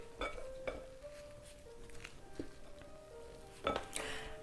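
Salmon patty mixture is mixed in a bowl, a few close utensil clinks and scrapes against the dish with quiet gaps between them.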